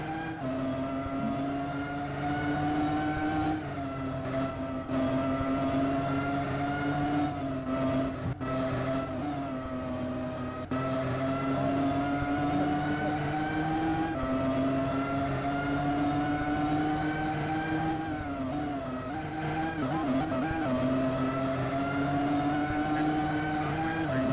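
Two Formula 1 race cars circle a Roblox circuit in free practice, engines holding a steady high whine that shifts pitch with gear changes and passes, loud and continuous with no talk.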